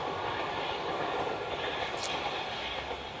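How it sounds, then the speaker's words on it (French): Train passing outdoors, a loud continuous rushing rumble throughout with a brief sharp squeak partway through. "quand c'est pas les voitures, c'est les trains"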